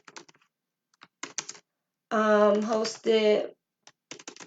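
Computer keyboard keys clattering in short bursts of quick taps at an office desk, with a person speaking briefly in the middle of the typing.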